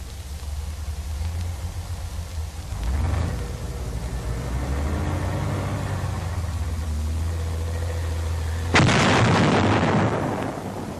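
A large explosive charge set off by a 1944 engineer armored vehicle, a converted medium tank, bursts loud and close over a constant low engine rumble. A duller boom comes earlier.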